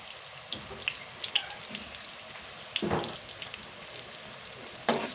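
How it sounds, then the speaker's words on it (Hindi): Green chillies fry in oil with a soft, low sizzle, broken by a few light clinks and scrapes of stirring. "इसी तरह ये जो पड़ी हैं भी शामिल करते हैं ऑयल में और इनको पका लेते हैं अच्छी तरह से"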